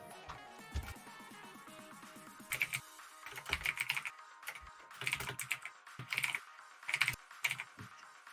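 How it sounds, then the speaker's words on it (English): Keys clatter on a computer keyboard in irregular bursts of quick taps separated by short pauses, close and fairly quiet, with no talking. "I'm just typing this in because I don't know how to speak French off the top of my head"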